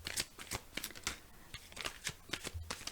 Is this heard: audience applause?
no